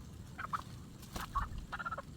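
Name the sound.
chicken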